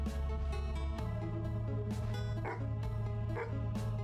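A dog barks repeatedly in a horror video game, the sharp yips coming in a steady run over a continuous musical backdrop, fairly close and clear.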